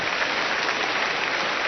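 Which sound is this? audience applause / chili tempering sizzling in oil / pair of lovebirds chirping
audience applause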